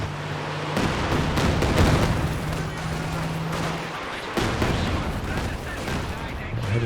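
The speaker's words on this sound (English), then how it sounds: "Oh, Katyusha barrage is coming in." A Katyusha rocket barrage lands in Company of Heroes 2, a dense roll of overlapping explosive bursts and rapid detonations filling the mix, with a commentator's voice over the battle.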